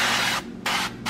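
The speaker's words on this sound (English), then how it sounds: "And then I just have some of this olive oil spray." Olive oil cooking spray hisses from a can in two short, close bursts separated by a brief pause.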